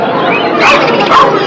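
A big dog barks loudly and close by, giving a couple of deep, gruff woofs over a steady background hum.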